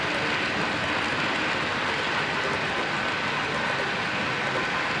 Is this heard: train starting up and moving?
yes